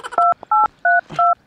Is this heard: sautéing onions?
no